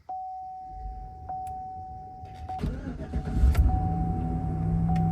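A 2007-2013 Chevrolet Silverado V8 starts up after a cylinder 7 misfire repair: a warning chime sounds, then a brief crank and the engine catches, swelling into a steady idle rumble.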